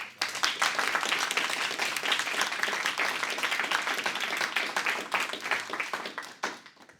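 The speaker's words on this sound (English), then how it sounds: "Can we all give a round of applause?" An audience at a university Giving Day event claps steadily for several seconds, a dense patter of many hands that tapers off at the end.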